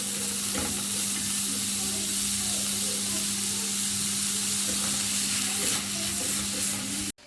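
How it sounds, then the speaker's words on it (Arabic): Finely chopped onions frying in a pan and stirred until golden, a dense continuous sizzle with a low steady hum beneath, close and without speech, cutting off abruptly at the end. "ومعايا بصلتين فرمتهم ناعم، هقلبهم كويس اوي لحد ما يحمروا معايا"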